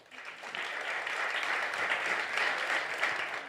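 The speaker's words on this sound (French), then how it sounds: "Alors, une bonne main d'applaudissements pour nos finalistes de la catégorie innovation." An audience at an awards ceremony applauds the innovation category finalists, a steady wash of clapping from a fairly distant crowd that holds evenly throughout.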